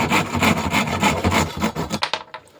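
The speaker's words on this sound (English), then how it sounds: "Just cut your piece of dowel off." A hand saw cuts a piece off a wooden dowel for a lyre tailpiece, with a steady back-and-forth rasping stroke rhythm that speeds up and turns to a few sparse, lighter strokes as the cut finishes.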